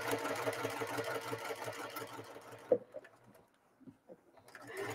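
A sewing machine stitching a zipper pouch runs in a fast, even, rhythmic chatter for over two seconds, then stops, followed by a few quiet clicks and a brief restart at the end.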